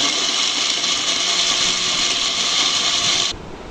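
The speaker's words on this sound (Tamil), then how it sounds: "அதை நல்லா அரைச்சிக்கிறேன்." An electric blender grinding dates for a milkshake gives a loud, steady, high-pitched whirring roar that holds constant, then cuts off abruptly near the end, leaving a quieter hum.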